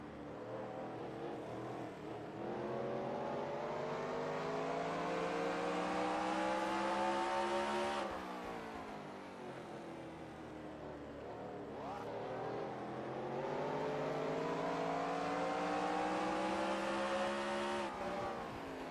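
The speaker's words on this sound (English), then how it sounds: "Right now you're hearing him downshift" A race car at Martinsville in the NR2003 racing game downshifts through its gears. The engine note drops sharply, then climbs again in two long sweeps, with a steady loud whine and no talk.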